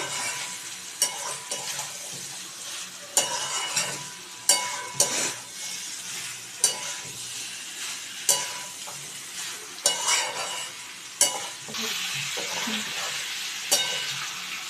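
Mutton pieces and potato sautéing in a pan for a Bengali mutton kosha, with a steady close sizzle and regular spatula scrapes and knocks recurring every second or so.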